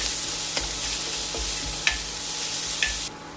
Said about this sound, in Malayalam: ചെറുതീയിലൊന്ന് വഴറ്റിയെടുക്കണം.